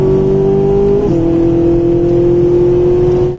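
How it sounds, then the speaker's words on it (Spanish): A Ferrari 458 Italia at full throttle on a track gives a loud, sustained engine howl. A steady high tone drops in pitch around the one-second mark as a gear changes, then holds strong until the clip ends. "elegí un Ferrari 458 Italia. Así que me dieron las llaves, di una vuelta para probarlo y luego otra a tope"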